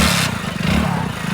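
A motorcycle engine running loud and close during a bike riding challenge race, a steady throbbing drone with slight pulsing over a short burst.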